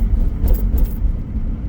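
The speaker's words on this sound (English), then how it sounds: "You can probably hear my stuff in my truck jangling around while I'm hitting all these little inconsistencies in the road" Loose belongings rattle and jangle inside a moving truck on a rough Denver-area road, with light metallic clinks over a steady, heavy road rumble and engine drone.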